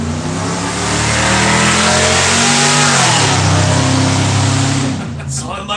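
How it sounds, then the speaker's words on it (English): A pickup truck engine revs loudly and steadily up close, its droning note rising and falling across several seconds before cutting back near the end, with voices mixed in. "We got Cody's wonderful truck."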